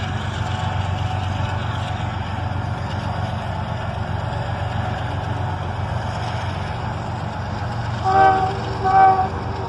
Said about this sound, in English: And some quick horn action from the engineer, as an ES44DC and an ET44AH lead a southbound manifest